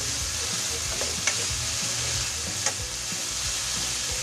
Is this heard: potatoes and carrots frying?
yes